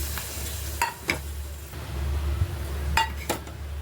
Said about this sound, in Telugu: ఇదిగోండి పోపు బాగా వేగిపోయింది, టమాటా రసంలో వేసుకోవడమేనండి